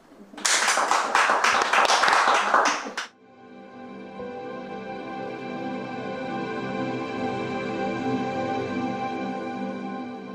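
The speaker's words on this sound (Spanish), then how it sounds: "Un aplauso." A brief burst of audience applause closes an informational talk for healers, lasting about two and a half seconds before cutting off sharply; soft sustained tonal music follows.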